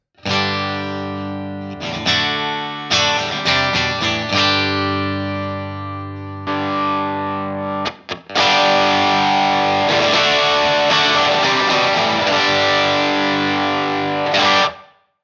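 Electric guitar through a 1979 BOSS OD-1 overdrive pedal into a Hiwatt-type amp simulator plays choppy chords and notes, then launches into sustained, gritty strumming with a crunchy distorted tone.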